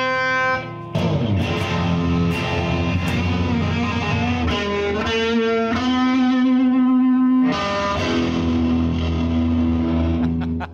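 A Jimi Hendrix electric guitar, plugged in and turned up loud through an amplifier, rings out with distorted, effects-laden chords and sustained notes that swell and shift continuously for about ten seconds, with no voices.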